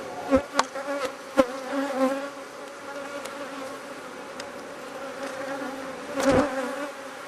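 Honey bees buzz steadily around an open beehive during an inspection, a soft continuous hum with a few louder passes of individual bees close by and no talking.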